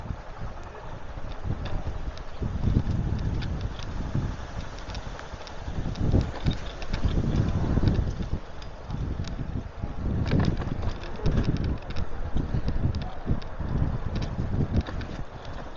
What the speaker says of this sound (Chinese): 今天唯一失算的呢，就是天气稍微有点转冷，风很大。